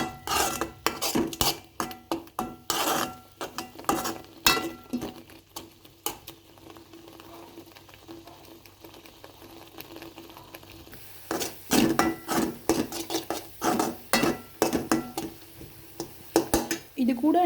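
A spoon scrapes and knocks against a pan as grated coconut is stirred into melted jaggery, a close run of rhythmic clattering strokes that pauses midway and then resumes just as busily.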